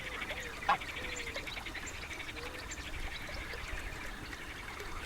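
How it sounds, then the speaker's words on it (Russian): A mute swan calls in the Volga delta wetlands of the Astrakhan reserve, giving faint honking, goose-like notes with one brief louder call over a steady hiss of outdoor ambience. "Шипун – сильная птица."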